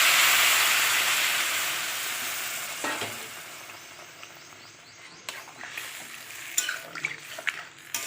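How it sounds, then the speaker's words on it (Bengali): Water poured into a pan of okra cooked in mustard paste bursts into a loud hiss that gradually fades to a softer simmer, with a few light clinks and stirring scrapes near the end. "এবার আমি দেবো জল ঢেলে।"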